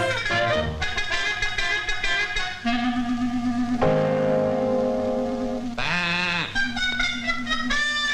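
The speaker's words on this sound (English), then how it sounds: "there's una oveja negra, a black sheep in there, apparently" Sheep bleat at a sheep ranch, a loud run of wavering, drawn-out cries following one another with no pause and no talk.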